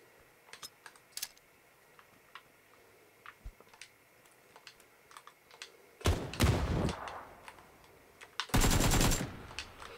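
Gunfire in the PUBG battle royale game on Xbox One: two loud, dense bursts of automatic fire erupt in the second half, one lasting about a second, the other longer. They follow quieter scattered clicks and ticks.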